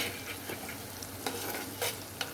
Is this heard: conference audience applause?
no